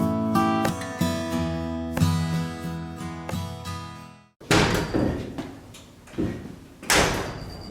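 The door of a 1967 Chevy C10 Stepside barn-find pickup shuts several times with sharp metallic clunks and rattly slams, each followed by a ringing decay, loud and close, with a gap between two sets of closings.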